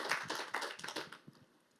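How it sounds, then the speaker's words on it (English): A brief round of applause from the audience at the Women's Sports House panel at Cannes Lions: a short burst of clapping that tails off quickly. "round of applause"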